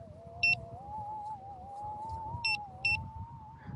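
Begode A2 electric unicycle at zero battery sounding three sharp high electronic beeps, a pair close together then a third, over a steady rising motor whine and road rumble while riding.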